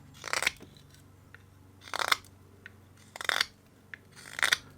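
Four short rasping knife cuts slice through carved wood, with a sharp blade working the end grain of a handmade wand. The strokes are close and crisp and come at roughly one-second intervals, with quiet pauses between them.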